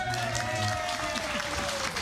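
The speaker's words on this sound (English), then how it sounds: "Let's give them a round of applause." Audience applause at a convention breakfast presentation, a steady patter of clapping over about two seconds with a sustained tonal hum underneath.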